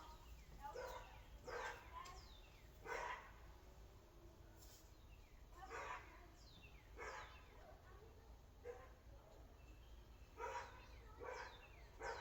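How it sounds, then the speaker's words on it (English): The dog next door barks repeatedly, a string of sharp woofs in uneven bursts, heard at a distance through a faint outdoor background. "You hear the dog barking, that's next door."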